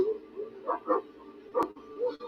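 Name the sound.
dogs barking in a TV show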